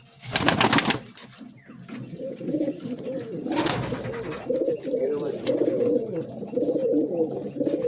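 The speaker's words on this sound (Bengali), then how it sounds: "সবই গিরিবাজ পায়রা আছে এখানে" Giribaz pigeons coo softly and continuously in a loft, a low rolling burble heard close by, with a couple of brief flutters or noisy bursts early on.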